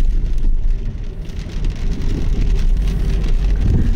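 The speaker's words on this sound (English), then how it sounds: "Just raining." Steady rain falls outdoors on a gray morning, a continuous close hiss of drops on surfaces with a low rumble underneath, loud and unbroken throughout with no voices.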